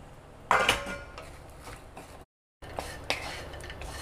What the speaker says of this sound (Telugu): ఈ విధంగా మొత్తం కలుపుకోవాలి.